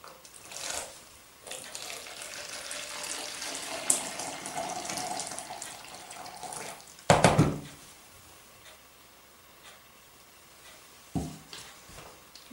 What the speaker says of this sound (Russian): Теперь я наливаю 600 миллиграмм кипяток в воду.